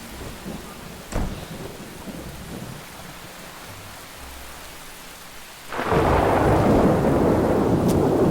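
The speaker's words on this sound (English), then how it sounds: "And of course it's raining. This place rains heavily." Heavy rain and a thunder rumble in the video game Neverwinter Nights 2: quieter ambience with a faint rumble gives way to a loud, steady downpour filling the last few seconds.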